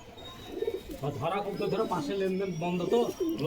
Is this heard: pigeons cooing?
yes